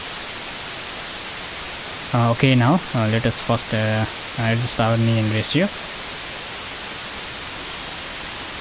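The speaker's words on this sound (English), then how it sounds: "here at track B I have white noise." Steady broadband white noise hiss runs loud and unbroken throughout, as a test signal on a track in an audio editing session, while someone talks over the middle part.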